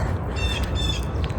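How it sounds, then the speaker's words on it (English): Birds call outdoors on a walk back from school drop-off: a few short squawky chirps sit over a steady low rumble of nearby traffic. "Birds are chirping."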